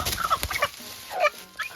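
A country chicken clucks in short, uneven bursts, fairly close and moderately loud, with brief gaps of quiet between the calls.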